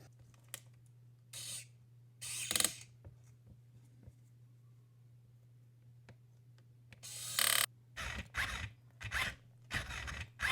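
An animatronic monkey's small motor drives the mouth in short mechanical bursts of whirring and scraping, separated by quiet gaps and set over a steady low electrical hum.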